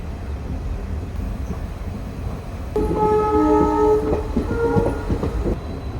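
Train no. 16844 runs through the Walayar Ghat section in the morning. A steady rolling rumble builds, then a loud, sustained multi-tone horn sounds for about two seconds over the clatter of the wagons nearby.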